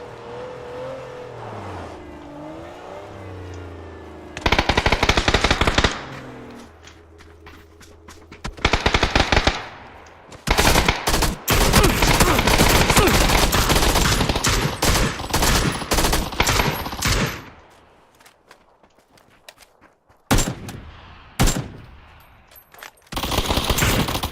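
Bursts of automatic enemy gunfire in a shooter video game, loud rapid fusillades alternating with short lulls and engine-like revving, no talk.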